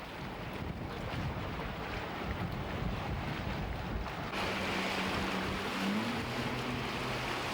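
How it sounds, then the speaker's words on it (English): A catamaran runs fast at sea toward an island, a continuous rushing roar of wind and water with a steady engine hum growing stronger partway through, no voices. "the catamaran is able to make the run from the dock to Dyer Island in less than an hour"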